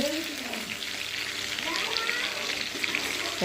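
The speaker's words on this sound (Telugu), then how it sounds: "మనం బాగా ఫ్రై చేసుకోవాలి" Frying in a pan, a soft, steady sizzle with occasional faint crackles, while a voice drifts faintly in and out.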